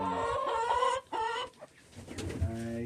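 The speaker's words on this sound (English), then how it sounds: "All my chickens are happy. Right now they're just complaining because they want some fresh water." Several chickens in a coop cluck and squawk loudly up close, their calls overlapping in bursts with brief pauses, the birds sounding agitated and insistent, wanting fresh water.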